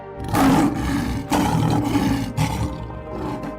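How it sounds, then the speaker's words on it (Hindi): A lion roars in an animated children's story, three loud, close, rumbling roars in succession, each swelling and then trailing off, with no speech. "शेर ने अपनी गरज से सांप को डराकर भगा दिया।"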